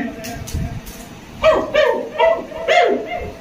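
A performer at an Assam literary society event vocally imitates puppies barking, a soft low sound followed by four quick, close yapping barks in an even rhythm.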